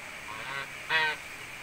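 Geese honk by a fish pond at a villa, two nasal calls in quick succession with the second louder and nearer, set against a steady outdoor background.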